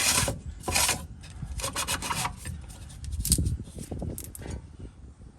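Metal fuel filter housing on a Ford Super Duty 6.7 diesel being hand-tightened, giving close, repeated rasping and scraping strokes in uneven bursts with no talk.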